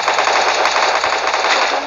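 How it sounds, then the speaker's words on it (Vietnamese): Rapid automatic gunfire from the mobile battle royale game Garena Free Fire, a loud, dense and continuous stream of shots filling the whole moment. "Có bắn nhau rồi kìa."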